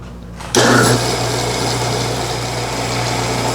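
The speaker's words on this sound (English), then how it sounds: "I'm going to drill" A drill on a milling machine boring holes for 1/4-20 set screws starts abruptly and settles into a steady, close, high-pitched mechanical whine, holding constant without talk.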